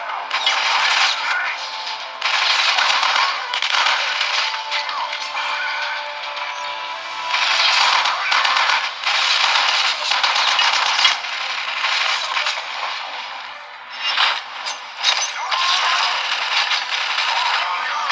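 Rapid bursts of gunfire from the video game Killzone Mercenary, loud and dense, coming in repeated volleys with short gaps between them.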